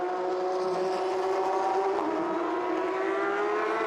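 Porsche Carrera Cup race cars at Ningbo scream past at high revs, a sustained, loud engine wail whose pitch dips slightly as a car crosses the finish line, with no voices over it.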